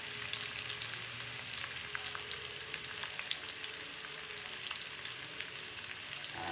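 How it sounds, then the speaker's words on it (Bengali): Chopped onion and garlic frying in oil in a pan, a steady soft sizzle with faint crackles running throughout, fairly quiet and alone with no talking. "এই জন্যে শুধু পেঁয়াজ আর রসুন ভেজে নেওয়া লাগবে"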